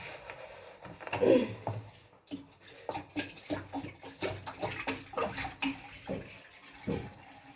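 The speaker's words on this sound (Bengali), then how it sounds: "গঙ্গার জল দিয়ে চা করবো" Ganges river water is poured into a pot to make tea, giving a close, splashing gush that swells and ebbs in uneven surges with a few drips, and no one speaks.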